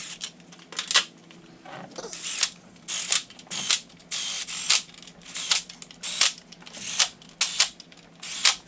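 Ratchet clicking in quick rhythmic bursts while snugging 10mm nuts on a glow plug module of a BMW 335d with M57 diesel engine, close and clear with short pauses between strokes.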